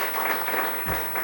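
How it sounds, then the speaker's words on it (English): Audience applause for a panel of speakers at a sanctuary-themed art and museum discussion, a steady moderate patter of many hands clapping heard from a short distance. "let's give one more round of applause for all of our panelists for sharing their work with us"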